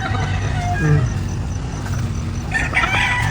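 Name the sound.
chickens clucking on a farm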